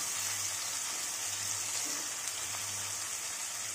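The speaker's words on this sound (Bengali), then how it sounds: "নুন দিয়ে আমি আরো একবার ভালো করে টমেটোটাকে" Tomato with salt frying and being stirred in a pan for a fish and cauliflower curry, a steady broadband sizzle with a low hum beneath and faint, occasional scrapes, with no talking.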